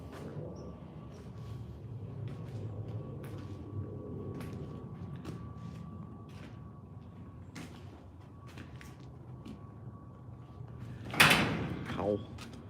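A head knocks against a shop door, a single sharp thump near the end, heard over a steady low hum and background room noise.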